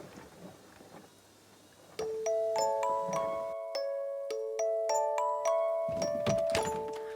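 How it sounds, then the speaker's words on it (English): A chiming doorbell plays a melodic sequence of bright, ringing tones that overlap and decay, loud and close, after some faint background rustling. "When the doorbell rings."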